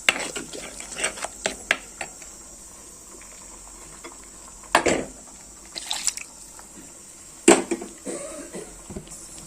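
Masala paste sautéing in oil for a seer fish curry, low frying noise under repeated clinks and scrapes of a spatula against the pan, close and intermittent, with no speech.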